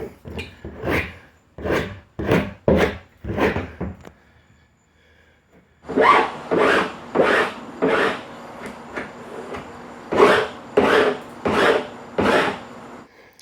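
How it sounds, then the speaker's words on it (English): A hand file rasps along the grinder-cut plastic edges of an IBC tote, loud close rhythmic strokes in two bursts separated by a short pause, with no talk. "so just hit it with a file"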